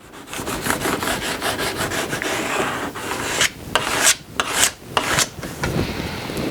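A card is rubbed over sticker paper while a Reggae Runner model is being built, giving a steady scratchy scraping that runs throughout, with sharper separate strokes toward the end, close up and with no talk.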